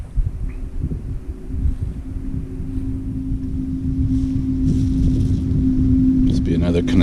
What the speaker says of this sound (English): I hear a boat